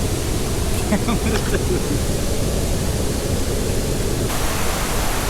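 Steady broadband rush of the Devkar waterfall near Yellapura, loud and continuous throughout with no breaks.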